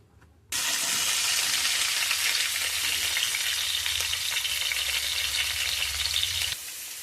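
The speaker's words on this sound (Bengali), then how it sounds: "সবজিগুলো ভালো করে ভাজা ভাজা করে নেব।" Vegetables for Bengali sukto (papaya, green banana, potato, radish, sweet potato, green chilli) fry in oil with a loud, steady, close sizzle that kicks in after a short pause and runs unbroken before easing near the end.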